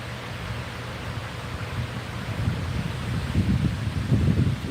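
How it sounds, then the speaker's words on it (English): Wind blows steadily, then builds into a stronger gust that roars and rustles through trees toward the end. "Big gust of wind."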